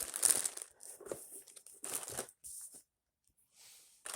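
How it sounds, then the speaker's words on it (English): Crinkly plastic of a DIY stress toy kit bag being handled and torn open, a few close, quiet bursts of crumpling separated by pauses, with no talk. "So let's get this thing opened up and see what's inside."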